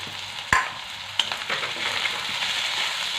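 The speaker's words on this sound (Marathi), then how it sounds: "हे वाटण छान आपल्याला लाल रंगावरती मस्त असं खरपूस भाजून घ्यायचं आहे" A paste of garlic greens, garlic, coriander stems and coconut frying in a pan, with two sharp clanks from a spoon against the pan and then a close, even sizzle.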